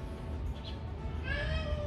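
A cat meows in an apartment in Toronto, a faint rising meow toward the end over a steady low background hum, with no talking.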